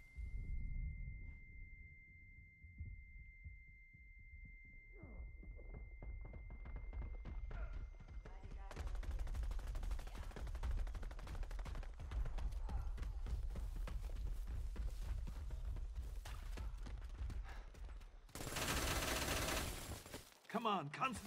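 Bursts of rapid gunfire crackle in a video game, dense and continuous through the middle stretch, with a louder blast near the end and talk over the action.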